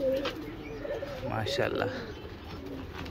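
Nisawre high-flying pigeons coo softly in a loft in Surat, a few low throaty calls near and close, with a voice speaking briefly over them.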